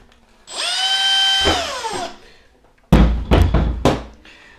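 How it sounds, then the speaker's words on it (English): A power drill bores pilot holes through a plastic RC truck body for a Monster Slash 4x4: a rising whine that spins up and holds, then drops away, followed by several sharp knocks and thunks. "you're going to drill out all four of them"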